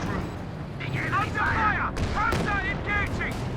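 Tank and artillery fire in the World War II strategy game Company of Heroes 2, with a US Pershing tank firing: repeated booming shots and blasts in a busy battle mix, with faint voice-like chatter among the explosions.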